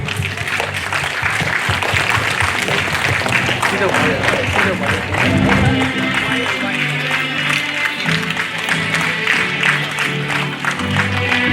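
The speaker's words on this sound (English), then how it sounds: "Let us all keep clapping as they walk." At a 2021-22 graduation ceremony, an audience keeps up continuous applause as graduates in red and blue gowns walk, a dense wash of clapping with a crowd murmur and voices underneath.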